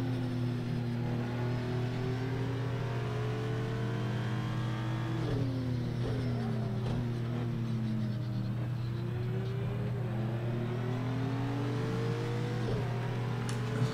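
A racing car engine in Project Cars 2 revs up steadily, drops pitch on a gear shift and climbs again, a loud continuous whine over a deep constant drone, with no talk.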